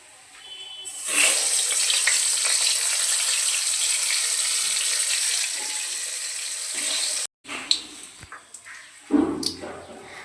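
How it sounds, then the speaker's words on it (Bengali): Potatoes fry in hot oil until reddish for a Bengali egg curry, a steady close hiss for about six seconds that cuts off abruptly, followed by a few scattered clinks and knocks. "এরপর ওই তেলের মধ্যে আলুগুলো দিয়ে লাল লাল করে ভেজে নেব।"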